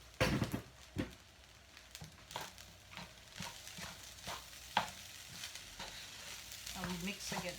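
Vegetable fried rice with soy sauce stir-fries in a pan: a steady, close sizzle broken by repeated sharp scrapes and clacks from the stirring utensil, irregular and prominent over several seconds.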